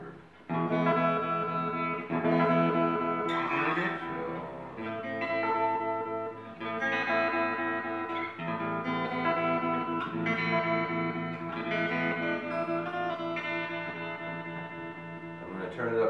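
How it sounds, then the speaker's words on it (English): Electric guitar chords played through a Soaringtortoise TreeMellow tremolo pedal with added reverb, pulsing and washed in reverb, steady and sustained for several bars without any talking. "Tremolo always sounds better with reverb."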